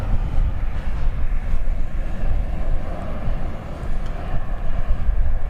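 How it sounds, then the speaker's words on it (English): A Southwest Boeing 737-800 airliner arriving at Dallas Love Field at night, a steady broad roar of jet engines and rushing air, moderately loud and continuous with no talk. "In just a second or two, we're going to see Southwest Flight 4380 arriving from Orlando"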